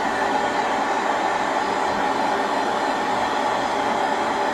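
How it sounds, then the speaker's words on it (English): A heat gun dries paint on a mixed media canvas, its close, steady blowing roar running without a break through the whole stretch, with no voices. "Hit it with the heat gun there."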